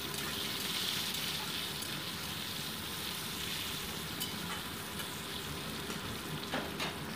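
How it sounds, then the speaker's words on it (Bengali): Papaya pieces fry in oil with a steady, close sizzle and crackle, along with occasional stirring scrapes throughout. No one speaks. "সামান্য একটু ভেজে নিচ্ছি পেঁপেটাকে"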